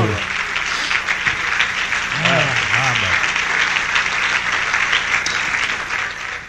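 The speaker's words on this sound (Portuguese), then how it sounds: "vamos dar um aplauso a nosso Rei de Reis" A church congregation applauds continuously, a dense wash of clapping with a brief voice sounding through it near the middle.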